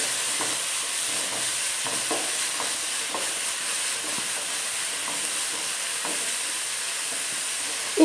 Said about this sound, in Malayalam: ഈ എണ്ണയ്ക്കകത്ത് ഈ ഇലയൊന്ന് നന്നായിട്ടൊന്ന് വഴന്ന് വരണം.